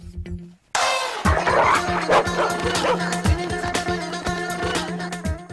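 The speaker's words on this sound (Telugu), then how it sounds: "అరే ఇది మన కుక్కలా ఉందే" Dog barking and yipping in a Telugu comedy movie scene, loud and close, with rapid repeated barks and whimpers over a music-like background and brief voices.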